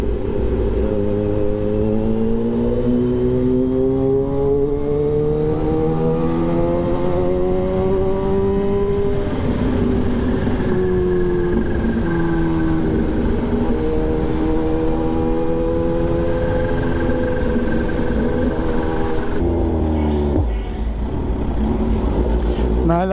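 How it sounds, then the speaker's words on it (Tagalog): Many motorcycles pass on a road during light rain, continuous engine drone with rising and falling revs close by, nearly unbroken. "Bali, okay na, marami na yung motor eh."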